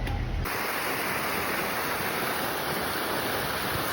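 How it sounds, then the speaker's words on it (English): Saya Creek, a mountain creek in the eastern part of Glacier National Park, Montana, rushes beneath a road as a steady, close, full-bodied water roar with no talking over it. "So this is Saya Creek, and it's flowing right below us, right underneath the road"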